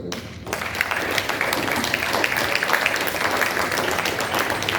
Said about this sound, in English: Please give him a round of applause one more time